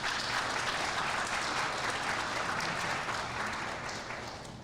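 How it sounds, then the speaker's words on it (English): An audience at an anniversary celebration claps in a dense, continuous round of applause for Lynette that slowly fades toward the end. "she deserves a round of applause"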